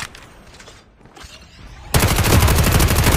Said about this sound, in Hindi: फायरिंग रियल लग रहा है, रियल है भाई।